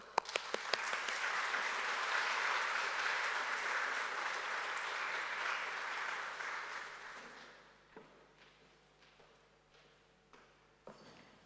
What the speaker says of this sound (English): So please help me welcome her with a great round of applause.